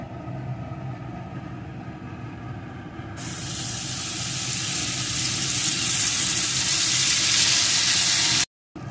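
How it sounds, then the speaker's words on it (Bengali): Stuffed brinjal (eggplant) slices fry in oil in a pan, with a low hiss that breaks into a loud, bright sizzle partway through and keeps building. It cuts off briefly near the end, then comes back. "এখন এগুলোকে একটু ভেজে নেব।"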